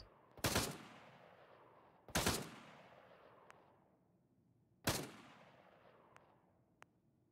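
Three loud, separate gunshots serve as warning shots in the military shooter game ArmA 3. Each sharp crack is followed by a fading echo tail, and a few faint clicks fall in between.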